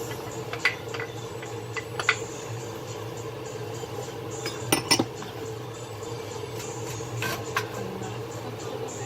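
Onions and sweet peppers going into a cooking pan for stuffed cabbage rolls, a low steady kitchen hum with scattered light clinks and taps of a utensil against the pan.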